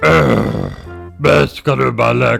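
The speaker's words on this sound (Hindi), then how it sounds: "तो उसने डकार मारी।" A cartoon character gives a deep, drawn-out burp after finishing a big meal, a low guttural belch that stretches over about a second, followed closely by spoken voices.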